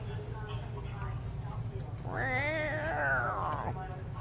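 A cat gives one drawn-out, wavering meow midway through, clear over a quiet background hum, with a faint voice nearby.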